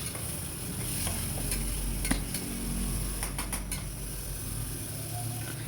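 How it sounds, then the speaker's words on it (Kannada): Khichdi ingredients with salt are stirred in a hot pan, giving a soft, steady sizzle of frying under scattered scraping and clinking of a spoon against the pan, with no voices. "ಉಪ್ಪು ಹಾಕ್ಬಿಟ್ಟು ಚೆನ್ನಾಗಿ ಫ್ರೈ ಮಾಡೋಣ."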